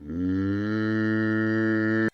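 A single sustained, deep vocal tone from a choir sample pitched down for a hardstyle screech in FL Studio 20, holding steady for about two seconds with rich harmonics, sounding almost like a low moo, then cutting off.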